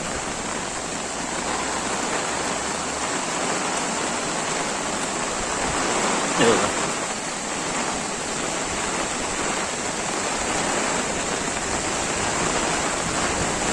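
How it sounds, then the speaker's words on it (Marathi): Heavy monsoon rain pours over a swelling river near a village bridge in Konkan, a dense unbroken roar of falling water and rushing current, loud and steady throughout with no voices. "पावसाचा जोरही जोरात चालू आहे"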